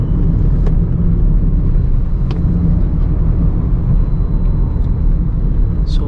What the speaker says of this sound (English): listen the engine sound coming to the cabin.